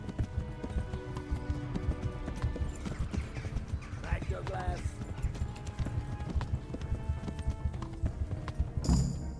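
Horse hooves gallop in the video game Kingdom Come Deliverance, a fast, steady clip-clop rhythm with a brief whinny, heard close under game sounds and a voice talking.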